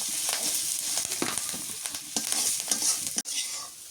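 Fish roe fries in a pan in a Bangladeshi village kitchen, a steady close sizzle broken by scraping stirring strokes throughout, with no voices.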